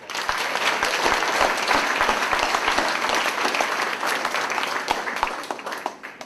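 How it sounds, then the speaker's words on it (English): Loud, sustained applause from a school assembly audience at an eighth-grade capstone event, many hands clapping densely and evenly for about six seconds before easing slightly at the end. "So let's please give her a round of applause."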